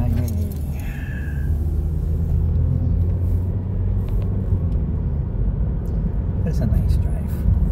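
A car drives along a maintained road, with a steady low engine and road rumble held throughout and faint rattles over the top.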